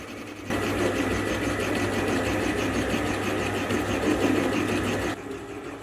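A metal lathe geared down to low RPM takes a cut with an end mill, giving a steady, moderately quiet mechanical hum with fine rapid chatter that starts abruptly and holds evenly for about five seconds before stopping.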